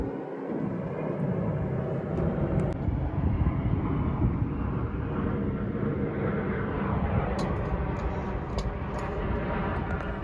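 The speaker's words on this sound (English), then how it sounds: "airplanes always interrupt my videos. That was like circling the house." Airplane flying low over and circling a house, a continuous broad rumbling drone that stays loud and steady throughout, with wind buffeting the microphone and a few faint clicks near the end.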